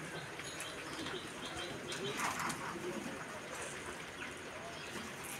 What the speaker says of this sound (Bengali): দেখেন কত পায়রা এসেছে, রেগুলারই আসছে এখন